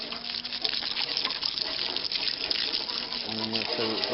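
Water spraying and gushing over a lawnmower as it is washed down, a steady hissing rush of liquid that stays even throughout, close and moderately loud with no talk.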